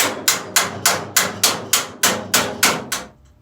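A hammer beats down seams on a truck cab floor pan, about ten evenly spaced sharp metallic blows that ring briefly, close and alone.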